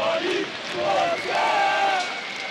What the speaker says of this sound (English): the cheering section there for Virtus.Pro just going wild